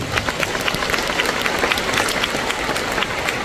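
Applause from a crowd at a patriotic evangelical revival rally, dense steady clapping filling the whole stretch at close range, with a few louder individual claps standing out.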